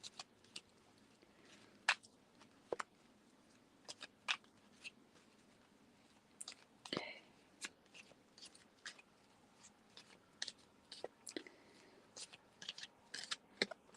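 Tarot cards being shuffled by hand, giving soft, irregular riffling and tapping bursts scattered across a quiet room, close and fairly faint, with no speech over them.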